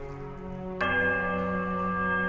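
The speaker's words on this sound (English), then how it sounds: "The bell sounds a strange warbling peal that grows to painful shrillness before it diminishes to a mournful chime." A bell in the fantasy video game Pillars of Eternity rings out in a loud, sustained, warbling peal, struck suddenly after a low hum and then ringing on with rich overtones.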